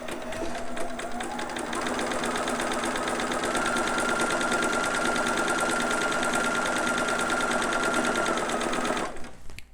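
A sewing machine runs close and continuously, stitching and gathering fabric for a newborn romper, its rapid even needle chatter holding steady for several seconds before stopping abruptly at the end.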